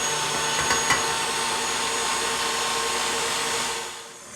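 An electric mixer whisks egg whites into glossy meringue for chocolate macarons while sugar is slowly added, giving a steady, continuous whirring drone close by that eases slightly toward the end.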